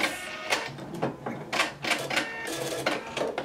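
Husqvarna Viking Epic 980Q sewing machine stitching in reverse, a rapid clattering run of needle strokes with uneven bursts and slight pauses, close and clear, with no speech over it.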